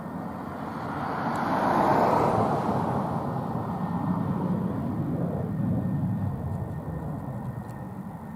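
An F-16 fighter jet passing at RAF Lakenheath gives a distant, broad roar that swells over the first two seconds, then slowly fades while lingering as a low rumble.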